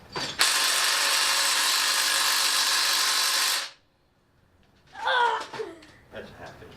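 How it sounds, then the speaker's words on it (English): A wrench works at a seized bolt on a Pontiac 400 engine, a loud sustained ratcheting rasp for several seconds, then a pause and a few shorter metallic clicks and scrapes. "I'm going to use a wrench."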